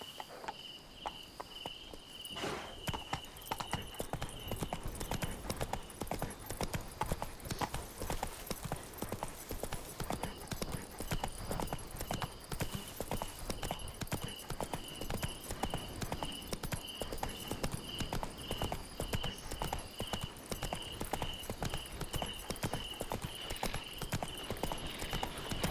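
Roach, the horse from The Witcher 3, trots along with a steady, continuous clip-clop of hooves close by, while crickets and insects chirp faintly behind.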